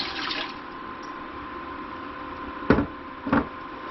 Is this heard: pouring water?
yes